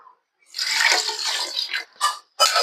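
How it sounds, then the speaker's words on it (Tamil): Water splashes and pours into a pot of mutton soup steadily for about a second and a half, followed by a couple of short bursts of pouring. "இப்ப இதுக்கு தேவையான அளவு வந்து தண்ணி மட்டும் இப்ப கொஞ்சமா ஆட் பண்ணிக்கலாம்"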